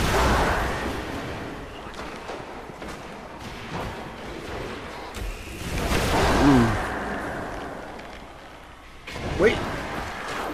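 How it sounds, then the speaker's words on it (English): Fusion rifle bursts in the sci-fi shooter Destiny: a few sharp energy discharges and impacts, moderately loud, scattered among other combat noise while someone talks over them. "Fusion rifle burst."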